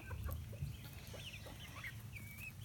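A flock of chickens in a pen clucks and murmurs steadily, with several birds calling at once in soft overlapping clucks and a few higher squawks, close by over a constant low background.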